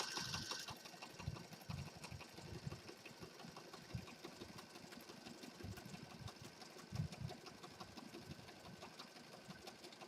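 Sewing machine stitching around the edge of a junk journal, a faint, steady mechanical whir with quick repetitive needle clatter and occasional louder thumps, running continuously.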